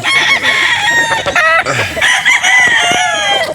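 A gamefowl rooster crows loudly and close by, several times in a row, with other birds clucking and calling around it on a game farm in Batangas.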